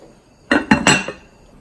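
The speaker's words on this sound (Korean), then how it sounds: "뚜껑을 덮고 끓여보겠습니다." A metal lid set onto a pot of oyster and green onion soup in a home kitchen, giving three quick close clanks in a row with a brief ringing after.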